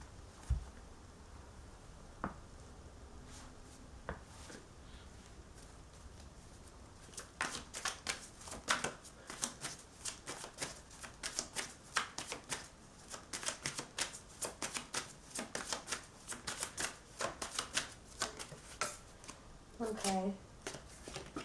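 Tarot cards being shuffled during a reading, with a long run of rapid close riffles and taps after a quieter opening and a voice speaking briefly near the end.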